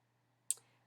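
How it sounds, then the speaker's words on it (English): A single sharp click of a computer mouse, close and crisp, with a faint low hum before it and nothing else. "We're going to go ahead and click on that."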